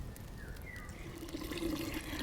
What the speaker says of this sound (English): We'll continue to add water until we get it to the level that we need.